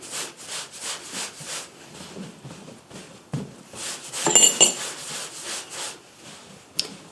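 Soda bread dough is turned and shaped by hand on a floured surface, giving soft irregular rubbing and patting sounds, close and quiet, with a sharper knock midway and a brief clink near the end.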